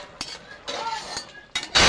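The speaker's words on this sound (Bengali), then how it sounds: "তরকারিটা একটু নাড়িয়ে দেবো" Potato and pointed gourd curry being stirred in a pot, a few light metal clinks and scrapes of the spoon against the pot spaced across the moment, ending in a louder burst of scraping.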